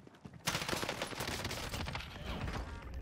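Dense automatic gunfire from a video game breaks out suddenly and keeps going as a sustained, loud clatter of rapid shots with echoing bursts, filling the whole stretch.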